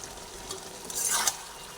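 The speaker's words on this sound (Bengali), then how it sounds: "আবার নাড়াচাড়া করে নিচ্ছি আবার কিছুটা কষিয়ে নেব" Fried shrimp are stirred in a frying pan, giving a soft, low-level sizzle and scraping that swells briefly near the end.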